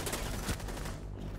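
Rapid automatic gunfire in the tactical shooter Rainbow Six Siege, a dense sustained burst of shots fired close and loud with no pause in the stream.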